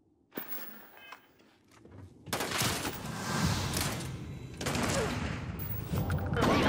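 A burst of rapid gunfire in the video game Starfield erupts partway through, a dense crackling barrage that keeps going after a few quieter thumps early on.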